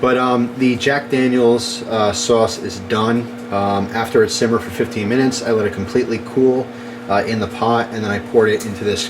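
A household microwave oven runs in the background, its steady low hum lasting throughout beneath continuous close talk in a kitchen.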